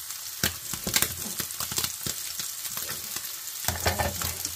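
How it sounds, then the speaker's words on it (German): Onion hits a pan and fries in a crackling, spattering sizzle, with frequent loud scrapes and clatters of stirring close by, the frying swelling again near the end. "Da kommt die Zwiebel rein."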